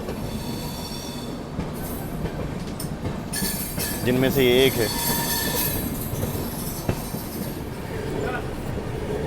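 The 20504 Dibrugarh Rajdhani Express runs through Barsoi Junction without stopping, heard from inside a 2AC coach as a continuous rumble and rattle, with a brief screech of wheels in the middle and a voice speaking briefly.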